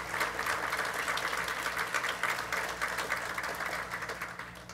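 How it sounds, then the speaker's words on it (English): An audience at a governors' association summer plenary meeting applauds in a steady, distant wash of many hands clapping, fairly faint and continuous with no speech over it. "Let's give them a round of applause."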